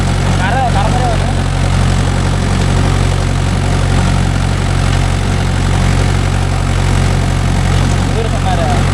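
A Mahindra 415 DI tractor engine runs loud and close with a steady low rumble while working a 36-blade Gomathi rotavator, with a voice faintly audible underneath.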